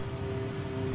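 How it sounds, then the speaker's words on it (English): Heavy rain pours down in a continuous deluge over a wide savanna plain, a loud, steady rush of drops hitting the ground with a low constant tone beneath it. "the rains fall in an almost continuous deluge"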